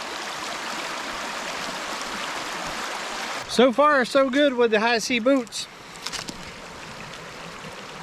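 A creek flows in a steady broadband rush of running water for the whole stretch, while someone talks briefly over it partway through.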